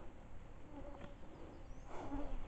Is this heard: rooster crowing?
no